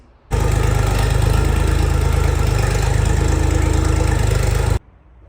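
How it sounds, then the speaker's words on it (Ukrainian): A small three-cylinder KM385 24-horsepower diesel engine on a Kentavr 244 S mini tractor runs steadily at idle, a loud, even low chugging throbbing throughout before cutting off abruptly near the end. "Під капотом встановлено трьохциліндровий двигун КМ385 потужністю 24 кінські сили"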